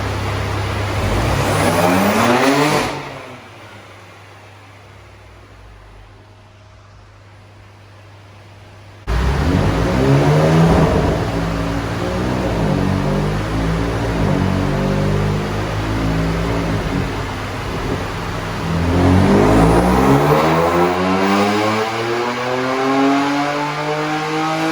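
BMW M3 F80 on a chassis dyno in a tuning workshop, with freshly fitted parts: a loud rev run, a quieter lull near idle, then a long climbing pull through the gears and another hard rev at the end, no talk.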